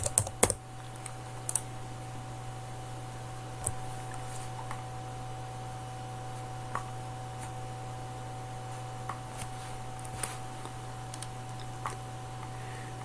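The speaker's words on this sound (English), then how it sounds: "I'll type in dining area." Steady typing on a computer keyboard in a quiet room, light irregular key taps spread across the stretch with a few louder clicks near the start, over a constant low electrical hum.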